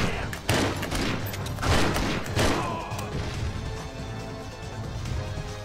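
Shotgun blasts in the video game 007: Agent Under Fire, several booming shots fired in quick succession over a loud, continuous background of in-game noise and rumble.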